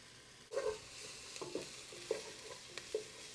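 Chopped onion sizzles in olive oil in a pot, a soft, quiet frying hiss broken by several short stirring scrapes at regular intervals, with no voices.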